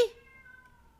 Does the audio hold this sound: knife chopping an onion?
no